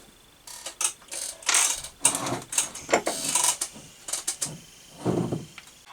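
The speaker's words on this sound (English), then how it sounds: "And then blow through it, and I can hear that air is going through it" Air blown by mouth through a carburetor from a Suzuki GS550 motorcycle during cleaning: a series of short, breathy hissing puffs, close up and separated by brief pauses.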